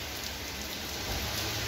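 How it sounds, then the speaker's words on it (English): Steady rain pours down in a dense, even hiss that holds without a break, with no voices or other sounds over it. "It's raining."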